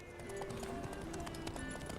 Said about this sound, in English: it will be horse racing